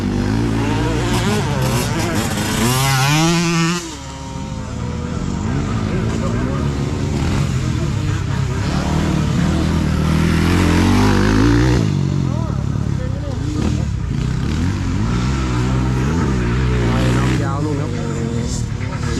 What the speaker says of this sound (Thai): แต่นี่เป็นพวกซุปเปอร์คับจากต่างจังหวัดนะครับ